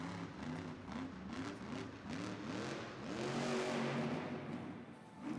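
The Blue Velociraptor monster truck's engine revs repeatedly in an arena in Sacramento, with a series of wavering rising and falling throttle bursts that peak in a louder roar, heard at a distance.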